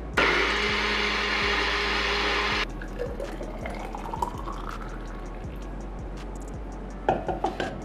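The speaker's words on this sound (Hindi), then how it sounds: "अब हम इन सब को अच्छे से ब्लेंड करेंगे।" Kitchen blender whirs loud and steady, blending a kiwi and oats smoothie with half a cup of water, then cuts off into quieter sloshing and trickling liquid with small clinks near the end.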